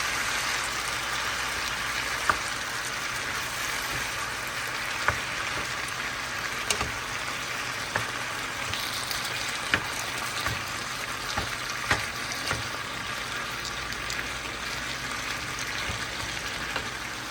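Cabbage and sausage fry in a pan with creamy pasta sauce, giving a steady, dense sizzle throughout, broken by light periodic clicks of a utensil stirring. Close and continuous, with no talking.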